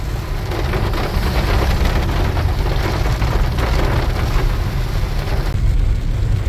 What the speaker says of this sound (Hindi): बरसात इतनी तेज हो रही है